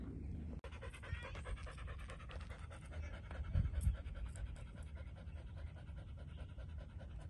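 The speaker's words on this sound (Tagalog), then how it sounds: "Hingal na dyan siya." A playful dog pants steadily after a play session, a fast continuous rhythm of breathy huffs close by, with a brief louder burst near the middle and no talk.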